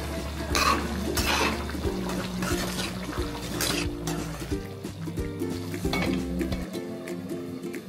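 Bottle gourd and paneer curry being stirred in a pot, with wet bubbling and sizzling plus occasional utensil scrapes against the pot over a low steady hum.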